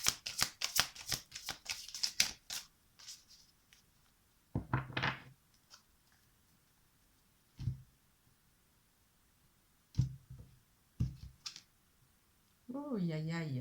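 Tarot cards are shuffled in a quick burst of crisp riffling clicks, then scattered taps and thumps as cards are handled, with quiet gaps between and a voice briefly speaking at the end.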